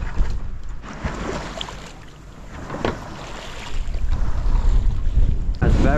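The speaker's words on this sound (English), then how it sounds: "A little gust of wind now." Gusty wind buffeting a sailboat beating upwind, rushing microphone wind noise swelling and easing over water sounds, with a louder burst near the end.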